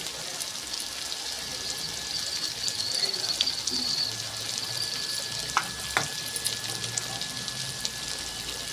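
Mashed boiled potatoes being stirred into a hot pan for pav bhaji: a quiet, steady sizzle with soft scraping and a few sharp clicks of a spoon against the pan.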